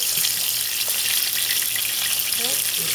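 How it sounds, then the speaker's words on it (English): Steady, loud sizzling of fish and cornmeal patties frying in a hot pan, a continuous crackle with faint clinks underneath. "that goes right into your frying pan right along with your fish"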